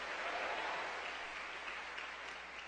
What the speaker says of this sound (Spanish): dale el aplauso al Señor